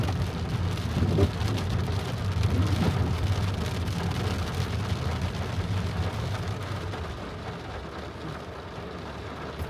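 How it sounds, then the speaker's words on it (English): Heavy rain pelting a car driving through Riyadh, a dense continuous wash of drops on the vehicle over a low road rumble that eases slightly toward the end. "it's heavy rain actually, and we are gonna drive in the rain"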